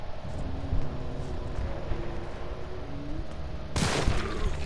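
A single sharp gunshot, a critical hit in the Resident Evil 3 Remake demo, cracks out loud near the end over a low droning game ambience.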